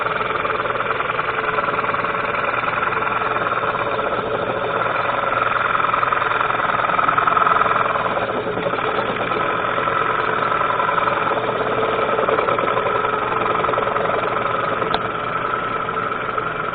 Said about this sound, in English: we start cutting, lean way over the lathe, and then pull back